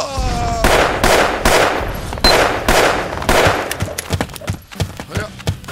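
Rapid video-game gunfire from Gunz, with close, loud volleys of shots in quick succession that thin out into scattered single cracks toward the end.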